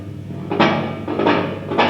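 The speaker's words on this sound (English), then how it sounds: "Now obviously that's making a huge racket because I'm touching them" Reverb springs being touched inside the pan of a Fender Deluxe Reverb reissue amp, giving loud boingy crashes that repeat about three times over a steady noisy wash, with no voice.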